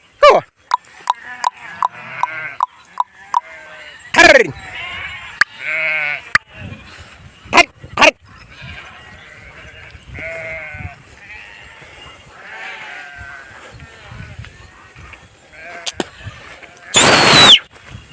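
Sheep grazing on a dried-out paddy field bleat loudly and near at hand, several overlapping calls with sharp clicks and knocks between them, and a burst of noise near the end.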